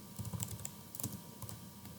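Soft, close keystrokes on a computer keyboard as a Linux iptables command is typed, a short uneven run of clicks and taps with a few spaced strokes.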